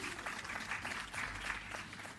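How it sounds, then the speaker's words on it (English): Audience at an awards ceremony for a heritage competition in Jamaica claps briefly, a soft, distant patter of applause that stays low and even. "I think you should give yourself some clap for that."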